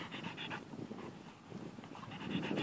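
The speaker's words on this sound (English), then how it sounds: "Hi, puppy." A dog pants in quick, rhythmic breaths close by, steady and moderately loud throughout with nothing else standing out, during outdoor ball play.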